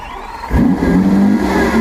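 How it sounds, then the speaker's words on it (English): A Lamborghini Aventador SVJ V12 engine cranks and fires up at about half a second, settling into a loud, steady rumble with a rising whine. "Go on, start it up."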